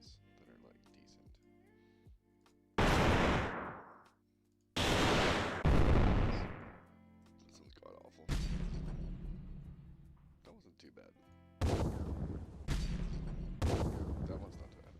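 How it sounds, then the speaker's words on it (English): Several loud booming explosion sound effects are played back one after another, each a sharp burst with a long rumbling decay, separated by gaps in which someone talks. "Explosion sounds that are like decent."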